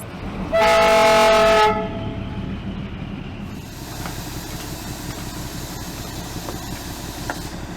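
A loud, sustained train horn blares, then an old Himalayan railway train rumbles and rolls along the tracks with rhythmic clacking and occasional metallic clanks, fairly close.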